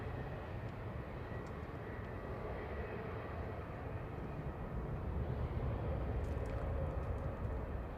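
An Aegean Airlines Airbus A320 arriving from Athens at Manchester Airport gives a steady, broadband jet rumble that holds evenly throughout at a moderate, somewhat distant level, with no talk over it.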